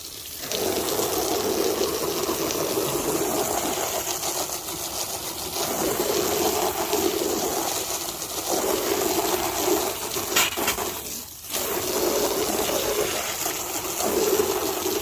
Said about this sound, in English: And regular old garden hose, so whoa, turn this on and see what we get.